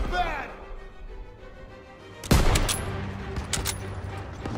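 Gunfire in the World War II shooter game Call of Duty WWII, a sharp loud burst of shots cutting in midway over game voices and battle ambience, followed by scattered further shots.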